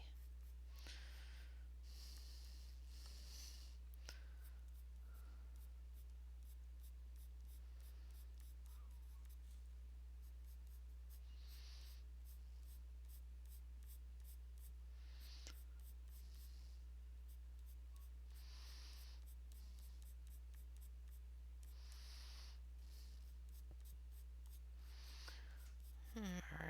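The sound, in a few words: coloured pencil flick strokes on paper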